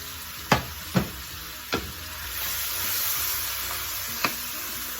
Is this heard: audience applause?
no